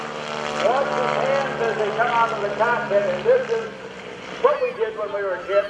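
An aerobatic airplane engine drones steadily as the plane rolls during the 2011 AirPower Over Hampton Roads air show, heard beneath continuous narration from someone speaking over it.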